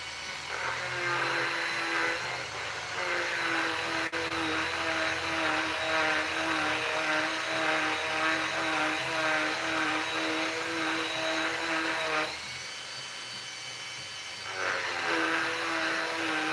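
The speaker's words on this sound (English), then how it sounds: "Looks like I got this tool in my other machine, so we'll just use it. Just gonna sand that hole out." A rotary machine whirs steadily at high speed sanding out the hole of a 1921 Morgan silver dollar coin ring, a loud continuous whine with a brief drop in pitch and level before spinning back up.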